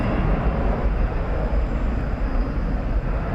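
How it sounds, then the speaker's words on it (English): A loud, steady broadband roar from an Airbus A321 jet near DFW Airport, constant and close without any break. "It's an Airbus A321."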